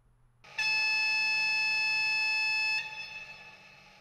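High-pitched signal horn from the sound module of an ESU V60 H0 model shunting locomotive, one loud sustained tonal blast of about two seconds that cuts off and leaves a brief fading tail.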